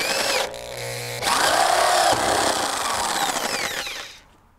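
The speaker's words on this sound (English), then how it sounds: "keep the barrel stable as you're drilling" A power drill whirs loudly and steadily, its pitch shifting as it bites into a hard plastic rain barrel, then winds down and stops.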